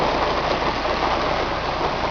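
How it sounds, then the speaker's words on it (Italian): Hail falls steadily in a dense, hissing patter during a storm near a mesocyclone, loud and close for the whole stretch, with no voices. "Sta grandinando."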